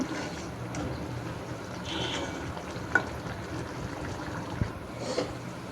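Paratha fries on one burner of a stove while a fish curry cooks on the other, a soft continuous sizzle at moderate distance with a few faint clicks and taps mixed in.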